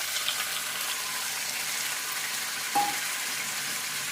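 Tomato pieces fry in hot oil for a tomato pickle, giving a steady, close sizzling hiss throughout with one brief clink partway through; no one speaks.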